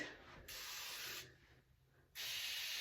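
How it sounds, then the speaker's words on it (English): Two bursts of hissing spray from a pressurized can of sterile saline, close up, the first longer, then a pause before the second burst starts. "So this is called H2 Ocean. It's really good for piercings. It's sterile salt water"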